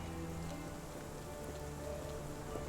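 Steady rainfall in the Sherlock Holmes The Awakened video game, a continuous soft hiss of drops on surfaces that stays even and fairly quiet throughout, with no talking.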